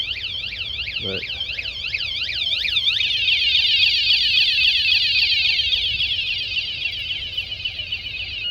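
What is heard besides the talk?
Pelican Catch 130 kayak alarm warning chirp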